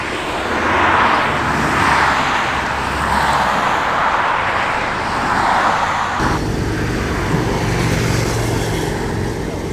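At a car meet, a loud broad rush of engine and road noise sweeps steadily from a VTEC-engined Mini driving past, with a shift in tone partway through and faint voices nearby.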